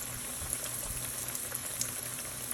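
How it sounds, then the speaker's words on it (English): Chicken strips fry in oil heated to about 350 degrees, a steady soft sizzle and bubbling hiss that runs quietly and evenly, close by, with no talking. "let's begin frying our chicken now"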